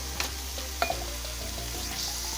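Peppers and onions cooking down in a skillet give off a steady close sizzle, with a couple of light clicks of a utensil against the pan.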